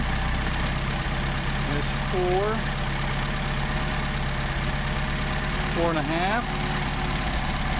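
A car engine with a Solex carburettor idles steadily with a low, even drone while its idle is being adjusted, and someone talks briefly over it.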